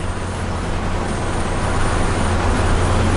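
A 1951 Dodge half-ton Pilot House pickup drives down the road, a loud, steady, close engine and road roar with cabin rumble that holds even throughout, with no talking.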